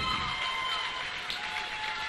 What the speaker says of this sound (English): A big standing ovation for both of them